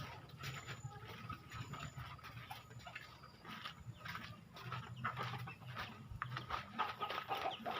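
Chickens cluck and squawk close by in a quiet yard, with faint voices now and then.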